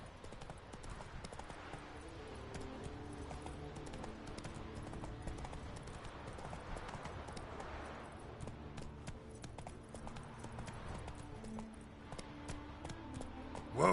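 Roach, a horse in The Witcher 3 video game, trots along with steady, rhythmic hoof clip-clops that run continuously throughout at moderate loudness, with no voices.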